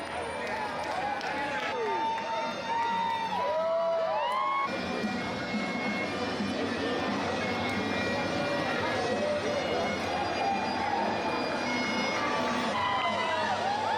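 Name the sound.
crowd cheering at a river festival in Texas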